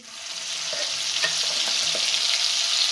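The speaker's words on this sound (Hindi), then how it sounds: "इसको अच्छे तरीके से भून लूँगी" Herb chutney of fenugreek and mint with lemon frying in a pan, a steady close sizzle with a few soft stirring scrapes, no voices.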